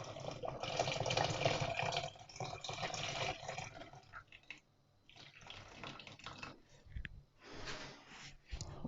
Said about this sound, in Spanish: Y le añadimos el agua